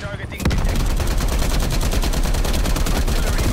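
Sustained automatic gunfire in Call of Duty: Black Ops Cold War, a Domination match, starting abruptly and continuing as a dense, rapid stream of close, loud shots without letup.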